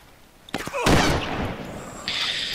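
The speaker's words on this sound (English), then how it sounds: "This gun's a bit loud" Loud gunfire in the survival game DayZ, set in Chernarus: a quick burst of close, sharp shots followed by a sustained roaring boom and echo, with game ambience continuing after.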